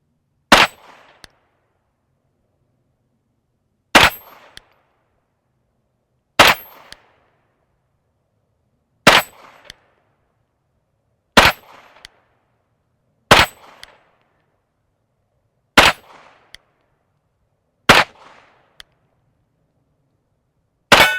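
Nine sharp gunshots fired at a steel hostage target, spaced a couple of seconds apart, each followed by a brief metallic ring from the struck plate; loud and close, with no talking.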